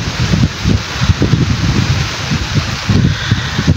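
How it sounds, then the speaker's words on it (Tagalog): Heavy rain and strong wind lash a hut during a typhoon, a loud, close, rumbling roar of gusts buffeting the microphone with rain hissing underneath, rising and falling in uneven surges. "Lakas ng hangin tsaka ng ulan."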